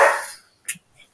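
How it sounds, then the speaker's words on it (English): Dogs bark outdoors: one short, fairly faint bark comes after a fading wash of background noise, with a softer yip or two trailing off. "Fucking dogs."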